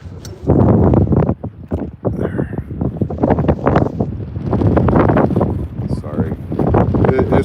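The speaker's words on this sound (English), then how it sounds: "Yeah, it's gotten really windy all of a sudden." Strong, gusty wind on the Wisconsin River during a spring walleye fishing outing, buffeting the microphone in loud rumbling bursts almost without pause, while a person talks throughout.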